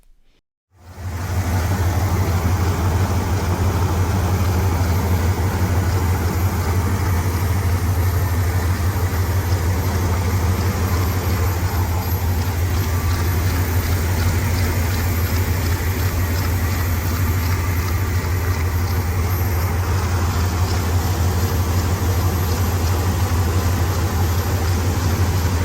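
A repaired Dodge Ram truck engine runs steadily, a constant low idle hum with a strong low drone, close and unbroken for the whole stretch after a sudden start.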